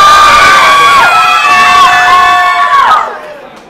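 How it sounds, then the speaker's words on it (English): Rap battle crowd erupts in loud laughter and shouting with some clapping, a dense, close burst of voices that holds steady for about three seconds before trailing off. "Laughing, clapping."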